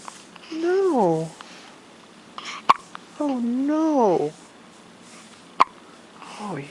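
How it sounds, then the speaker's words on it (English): A child hiccups twice at a steady interval, each a sharp, brief catch of breath, set between stretches of an adult talking close by. "Oh, you got the hiccups?"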